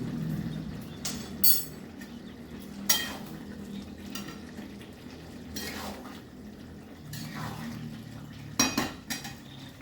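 Lid set onto a cooking pot of jackfruit curry on the stove, a few light metal clinks and clatters over a soft, steady simmering sizzle in a home kitchen.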